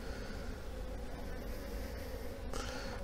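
Honey bees buzz around an open hive during a beehive inspection, a dense, continuous hum of many wings close by, steady throughout with no voices.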